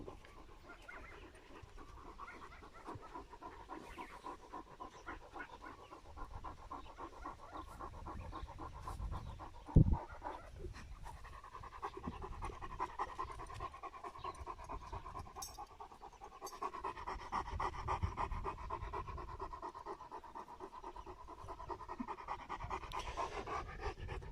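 A dog pants steadily and close by for the whole stretch, rapid rhythmic breaths with one brief sharp knock partway through, in a home with a newly arrived female dog.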